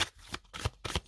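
Oracle cards are shuffled in three or four quick riffling bursts, close and crisp, with no talk over them.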